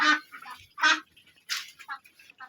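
Khaki Campbell ducks quack in loud, harsh bursts, several calls overlapping in a nearby flock with short gaps between them.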